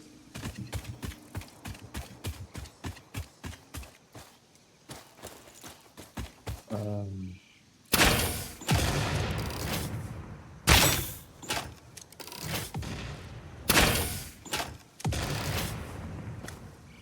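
Repeated gunshots and bursts of gunfire ring out in the video game Satisfactory: a quick run of sharp, evenly spaced shots at first, then several louder, broader blasts. A short tonal sweep sits between the two sections.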